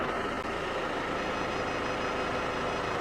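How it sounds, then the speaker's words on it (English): A Mercedes car's rear parking sensor warns with steady beeps while the car reverses up against a loading wall, the beeping sitting over a loud, constant engine idle and no talk. "Reverse, it's complaining. My rear parktronic is too close."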